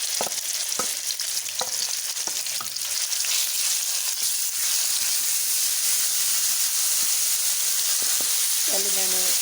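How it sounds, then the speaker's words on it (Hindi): Onions hit hot oil in a pan for a fish salan, giving a loud, steady frying sizzle and hiss that persists throughout, with a few clinks of utensils and a brief voice near the end. "अब मैं इसमें डाल रही हूँ प्याज"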